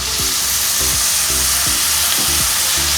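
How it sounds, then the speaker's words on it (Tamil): Loud, continuous sizzling in a hot pan with repeated scraping stirs, a steady hiss of frying after water meets the chana masala spices. "இப்போ கொஞ்சமாக தண்ணி சேர்த்துக்கலாம்"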